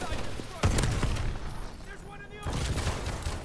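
Shotgun fire in the video game Call of Duty: Advanced Warfare, a sharp blast followed by a few more booming shots over a busy game soundscape, fairly loud and close.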